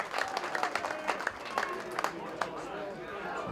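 Rugby crowd at a club match in Ayr applauding a successful kick between the posts, scattered claps and cheers in the distance beneath a commentator's voice.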